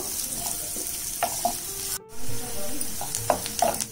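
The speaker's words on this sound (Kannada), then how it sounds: "ಈರುಳ್ಳಿ ಸ್ವಲ್ಪ ಕೆಂಪಗಾಗೋವರೆಗೂ ಹುರ್ಕೋಬೇಕು" Chopped onions sizzle steadily in a hot pan, with scraping stirs and occasional clinks of the spatula over the constant frying hiss.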